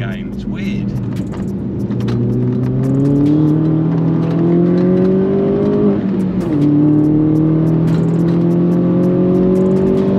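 A Mini R56 John Cooper Works track car engine pulls hard, heard loud from inside the cabin: revs climb steadily, drop sharply at a gear change around six seconds, then rise again, with voices faint under the drone.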